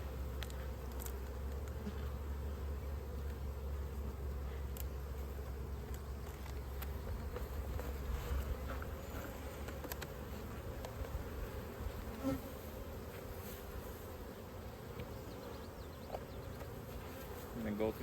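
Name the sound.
honey bees buzzing around an opened hive box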